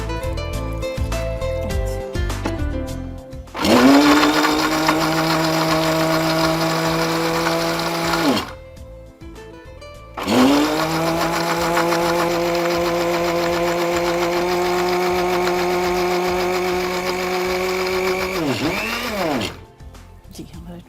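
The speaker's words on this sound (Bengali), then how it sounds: "অল্প একটু পানি দিয়ে আমরা ব্লেন্ড করে নেব।" A kitchen blender whirs loudly in two long bursts, grinding fried cashews, onion and green chilies with a little water for Afghani malai chicken seekh kebab, with a short pause between runs and quiet before.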